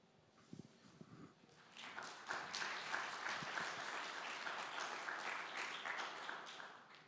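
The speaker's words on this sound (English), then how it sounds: "Well-deserved applause." Applause from a summit audience after a fireside chat on AI for Indian languages, starting with a few scattered claps and swelling into steady, fairly distant clapping that holds to the end.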